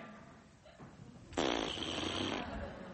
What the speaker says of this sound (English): Farts.